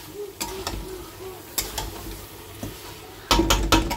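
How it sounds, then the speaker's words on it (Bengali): Eggs are sautéed in spice masala in a pan, a faint sizzle under repeated clinks and scrapes of a spatula against the pan, ending in a louder cluster of knocks. "দিয়ে দেবো এক এক করে ডিমগুলো একটু কষিয়ে জল দিয়ে দেবো"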